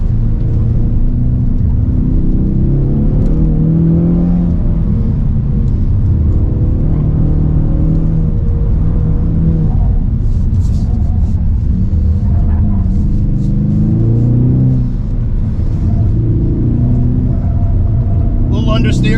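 The engine of a 2024 Ford Mustang S650 roars at wide open throttle on a canyon road, a loud, deep, sustained rumble that swells and dips with shifts, heard from inside the car under a driver's talk.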